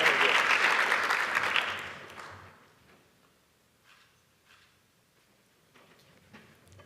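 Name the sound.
applause for award recipient Drew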